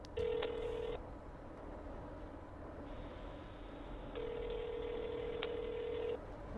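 A phone call rings out over a speakerphone, two long electronic ring bursts separated by a pause, fairly clear against a quiet room with no talking.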